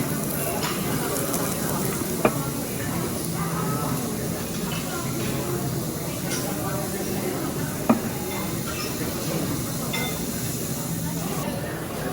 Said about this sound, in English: Beef on a hot stone.